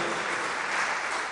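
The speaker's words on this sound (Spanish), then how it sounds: "Dele fuerte las palmas al Todopoderoso" A church congregation claps hard together in a dense, steady burst of applause filling the room, brief and without pause.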